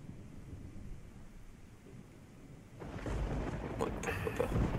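Rain hisses steadily in the video game Project Zomboid, then a deep rumble of thunder swells and lingers, growing louder toward the end.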